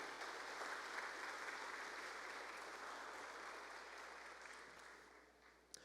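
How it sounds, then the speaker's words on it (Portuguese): Church congregation at a devotional service applauding for Jesus: a steady, dense wash of clapping that holds evenly throughout and tapers slightly at the end, with no voices over it. "pode dar também um aplauso bem forte também a Jesus"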